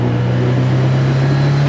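A Cosworth-powered Mk3 Ford Fiesta with its turbo running, producing a loud, steady engine drone with a strong low hum heard from close by.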